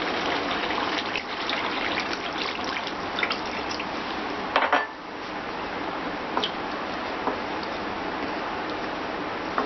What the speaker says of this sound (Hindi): तो अब हम इसमें 1 गिलास के करीब पानी डालेंगे।